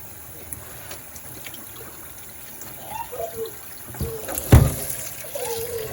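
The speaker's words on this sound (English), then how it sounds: "So I'll just take and pour this water out." Hot water from a pot of boiled eggs poured out into a kitchen sink, a soft trickling splash that builds near the end with a brief louder gush, fairly close and alone.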